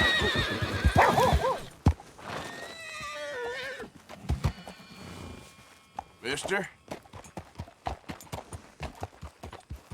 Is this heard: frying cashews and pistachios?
no